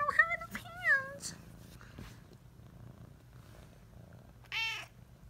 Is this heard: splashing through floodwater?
no